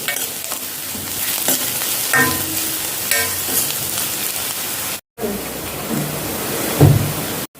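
Food sizzles steadily in hot oil over a high flame while being browned, a dense continuous crackle with occasional stirring scrapes and a short break near the end.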